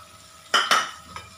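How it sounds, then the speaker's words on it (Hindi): A spoon scrapes and clinks twice against a pan as gram flour is stirred into capsicum, brief sharp contacts followed by a softer tap, with a faint background hum. "बेसन को अच्छी तरह से मिला लीजिए"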